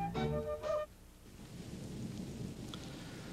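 Rainy weather with thunder: a low rolling rumble under a steady wash of rain, behind a brief musical tone at the start, with no talk.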